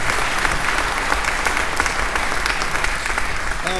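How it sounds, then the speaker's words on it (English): A dense, steady wave of audience applause fills a hall at an Alpha Phi Alpha fraternity chapter chartering ceremony. The clapping is loud and close and holds evenly for the whole stretch. "Give them a round of applause."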